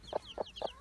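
A hen with three chicks on a summer farm gives three short, soft clucks in an even rhythm, close by, with faint high chick peeps and no talk.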